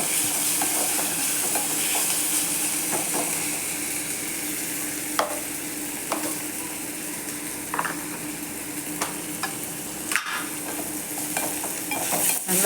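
Vegetables sautéing in hot oil in a pan for a curd gravy, a steady close sizzle and crackle throughout with occasional spoon scrapes and stirring knocks, no talk.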